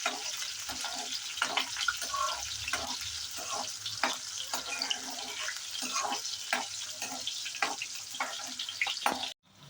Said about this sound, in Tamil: சின்ன வெங்காயத்தை போட்டு நல்லா வதக்கிடலாம்.